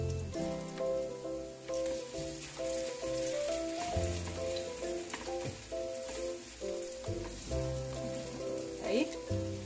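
Oil sizzles and crackles steadily as tofu fries in a pan, with soft background music and occasional stirring noises.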